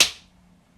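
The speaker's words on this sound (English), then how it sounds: "run and gun clapperboard, just clapping the hands" A single sharp hand clap used as a makeshift clapperboard for a three-camera shoot, close and crisp, decaying quickly into quiet room tone.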